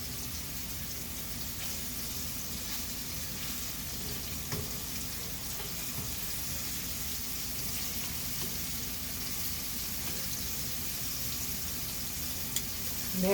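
Thinly sliced beef for Mongolian beef frying in oil, a steady, even sizzle with no letup and a faint clatter near the end.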